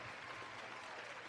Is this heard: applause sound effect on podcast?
yes